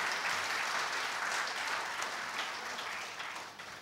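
An audience at a talk hall gives sustained, dense applause that stays loud for most of its length and tapers off gently toward the end, with no voices over it.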